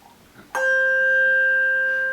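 A single handbell is struck once, giving a sharp attack followed by a clear, sustained ringing tone with bright overtones that holds steadily and only slowly fades, heard close up without talk.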